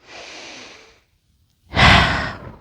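A child and adult doing yoga breathe deeply in mountain pose: a long soft exhale, a pause, then a louder, fuller breath, close to the mic with no talk.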